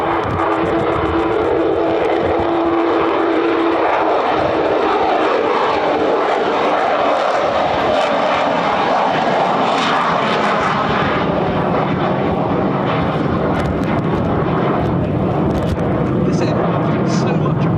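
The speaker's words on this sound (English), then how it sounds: "goes the incredible Lockheed U-2S." A Lockheed U-2S Dragon Lady reconnaissance jet passes at an air show, its loud engine roar rising and spreading into a broad rushing wash. A voice speaks over the noise.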